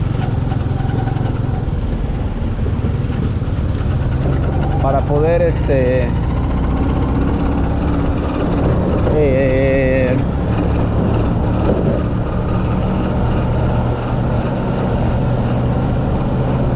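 Motorcycle engine running steadily while riding through a Mexico City hospital district, a constant low drone throughout with traffic noise and someone talking over it.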